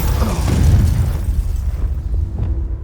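A Confringo fire-blast spell goes off in a Harry Potter wizarding video game, a loud booming burst up front that rumbles and fades over a few seconds, with faint clicks and a thin tone lingering.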